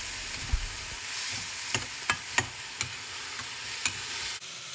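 Celery, seasoned with salt and soy sauce, stir-fries in a hot pan: a bright continuous sizzle broken by several sharp spatula taps and scrapes, close and fairly quiet, with no talking.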